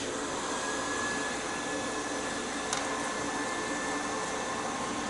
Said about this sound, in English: Okay, I have the heat gun. I'm going to turn this on low.